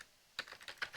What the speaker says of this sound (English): Is my keyboard working?